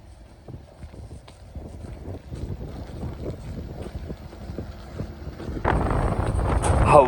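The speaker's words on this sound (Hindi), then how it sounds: "हवा इतनी तेज है ना इस टाइम" Strong wind gusts and buffets the microphone during a storm at the Rathoa Haryam Bridge, Mirpur, Azad Kashmir, with scattered knocking underneath, then surges louder and rougher for the last couple of seconds.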